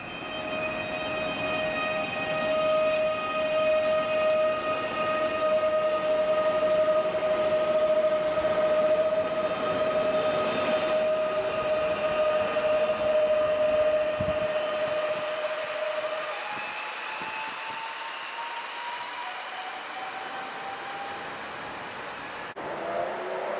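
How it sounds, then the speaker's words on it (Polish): A Koleje Mazowieckie Flirt electric train rolls into Warszawa Młynów station. A long steady whine and rail rumble gradually slows, the tone dropping and fading as it comes to a stop. "I wjeżdża kolejny pociąg. Tym razem koleje mazowieckie. Flirt."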